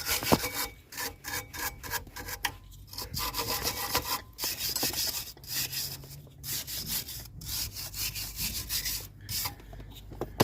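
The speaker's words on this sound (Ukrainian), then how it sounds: "Ми беремо спочатку щіткою все розчищуємо." A stiff brush scrubs rust and debris off brake parts in quick, close, rasping strokes with short pauses between bursts, a steady back-and-forth scratching with no voices.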